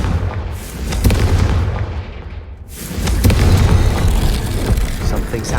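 In Hogwarts Legacy, the Confringo blasting spell sets off loud booming explosions that rumble and roll through the scene, with game sounds and a voice in the mix.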